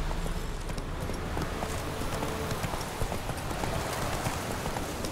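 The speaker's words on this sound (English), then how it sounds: "Not so fast, Roach" Horse hooves clip-clop steadily in The Witcher 3: Wild Hunt as the rider's horse walks, a continuous rhythmic patter over a dense game soundscape with no talking.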